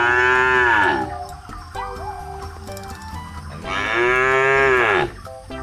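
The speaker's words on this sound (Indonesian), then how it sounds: "Ini ada kerbau si tanduk panjang." Long-horned buffalo mooing twice in long, loud, deep calls, close by, with a quieter stretch of other sounds between the two calls.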